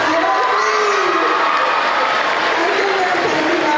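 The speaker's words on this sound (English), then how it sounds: "a big round of applause for us" A school audience of children claps and cheers for a visiting author, with dense, loud applause and excited shouting voices running continuously throughout.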